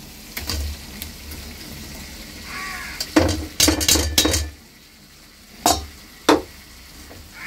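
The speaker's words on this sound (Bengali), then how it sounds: "আর এবারে আলুগুলো দিয়ে দেবো এরকম" Potatoes tipped into a pan of spiced masala made from ginger-cumin paste, turmeric and a little chili powder: sharp clinks and scrapes of a utensil come in bursts over a low background, with no talking.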